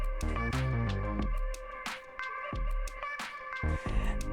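Sampler drum break run through a noisy, bitrate-crushed filter swept by an LFO: steady punchy kicks and bright crushed hits over a gritty, tonal, shifting texture, played at moderate level with no voices.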